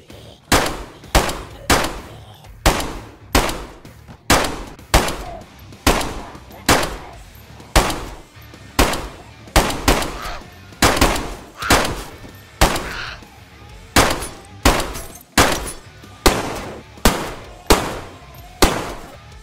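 Gunfire from the DayZ video game, with sharp, loud single shots fired at a steady, regular pace, each followed by a short decaying tail, with no talking.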